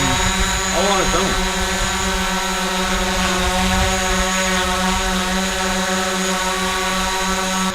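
A DJI Mavic Pro drone hovers close by, giving off a steady, loud whine with layered tonal hum. A person speaks briefly near the start.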